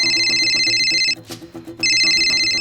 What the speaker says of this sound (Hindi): फोन उठा उसका